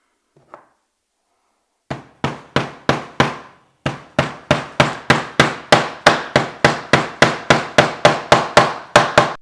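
A hammer drives nails into a wooden snowman base with a rapid, steady run of about twenty sharp, loud, close knocks, each ringing briefly on the wood, after one light tap and a pause.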